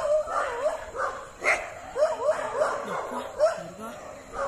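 A dog barks and yelps repeatedly at a wild elephant near houses at night in Coimbatore, the calls moderately distant and mixed with people talking.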